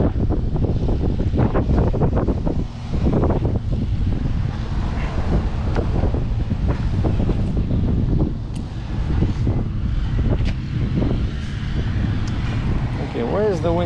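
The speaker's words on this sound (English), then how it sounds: "it's very windy over here." Strong wind buffets the microphone in loud, continuous roaring gusts, with a voice speaking underneath and brief knocks here and there.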